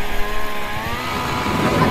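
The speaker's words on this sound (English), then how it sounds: "Planes are airborne, Alex." Airplanes flying overhead in the Modern Warfare campaign: a steady, loud droning engine roar with a humming tonal whine that builds slightly over two seconds.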